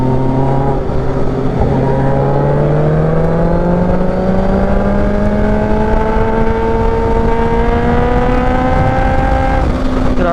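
A supercharged Kawasaki H2 motorcycle accelerates hard in fourth gear, its engine pitch climbing steadily in a loud, close, continuous howl with layered harmonic whine, alone without talk.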